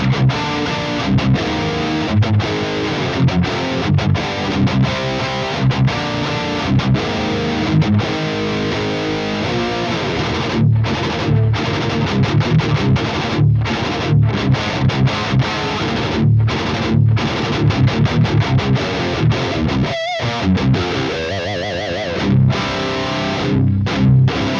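Metal electric guitar played through a Victory V4 The Kraken pedal preamp on its gain 2 channel, with a delay in the effects loop: a dense, loud, heavily distorted rhythm and lead riffing that runs continuously, with a brief cutout near the end.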